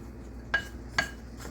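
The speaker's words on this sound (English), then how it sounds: "stir this up real good" A spoon scrapes and clinks twice against a mixing bowl while pear crisp ingredients with cinnamon are stirred, two short bright knocks over a low, quiet background.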